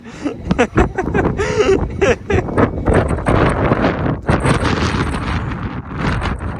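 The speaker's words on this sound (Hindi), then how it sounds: "So windy." Strong gusting wind buffets the microphone on a hilltop overlooking Santorini at sunset, loud, rough and continuous, with heavy bursts throughout.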